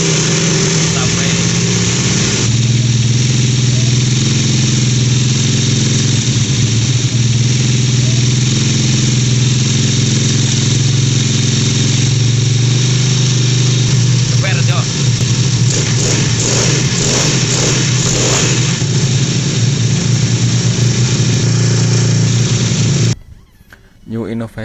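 A modified automatic scooter engine fitted with a plasma ignition system runs steadily and loudly at close range, holding a constant drone with slight revving variations for over twenty seconds before cutting off abruptly near the end.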